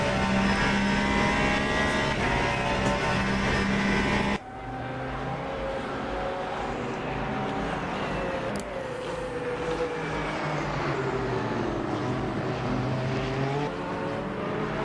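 A Le Mans Ultimate hypercar engine in a video game, droning loudly and steadily with shifting pitch as it accelerates and changes gear, cutting sharply lower partway through and carrying on alone.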